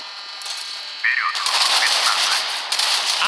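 Sustained rapid machine gun fire from a warship in the Modern Warships naval combat game, a loud dense rattle running continuously with layered explosive bursts and no talking.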